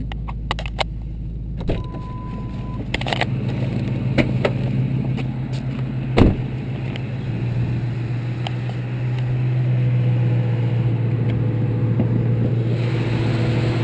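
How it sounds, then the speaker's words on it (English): A 2000 Ford Mustang GT with a V8 idles in a steady, low, smooth hum that holds evenly throughout, with a few light clicks near the start and no one talking. "the V8 runs smooth and quiet"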